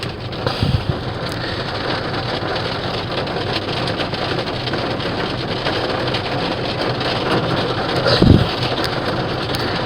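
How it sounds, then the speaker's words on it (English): Steady rain falls on an outdoor street with vendors nearby, a dense continuous patter that holds the same level throughout, with a couple of brief low thumps near the start and toward the end. "Can y'all hear that rain?"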